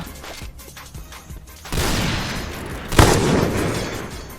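Gunfire rattles in a shooting video game: a dense burst of shots starts partway in and continues, with a sharp louder crack near the end, close and loud.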